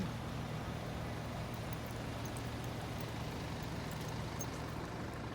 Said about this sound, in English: Here's a county truck here.